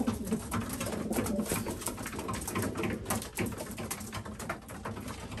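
Racing pigeons coo and flap in a busy, scuffling burst inside a loft as a couple of them fight, wings beating and bodies jostling close by, with constant bird noise in the background.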